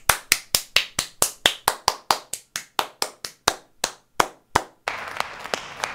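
Sparse clapping from a small group, about twenty sharp distinct claps at a quick but uneven pace, then a brief burst of fuller applause at the end.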